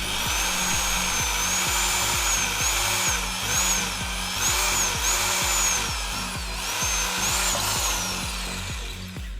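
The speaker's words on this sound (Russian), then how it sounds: "Далее заряжаем сверло побольше и сверлим это же отверстие" Power drill widening an existing hole with a larger bit during a clutch slave cylinder replacement on a car, a steady whine broken into repeated pulses as the bit bites and eases off.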